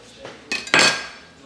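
A knife or spoon scrapes avocado flesh from the skin for guacamole, making a few short, bright clinks and scrapes near the middle, with the loudest stroke followed by a fading tail.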